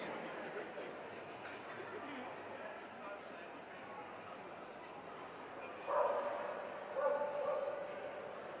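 Sloughi dogs at an indoor hound show give short barks and yips over a steady murmur of hall chatter and voices, with two brief louder bursts near the end.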